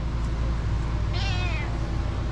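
A cat gives a single clear, drawn-out meow close by over a steady low background hum, with no one talking.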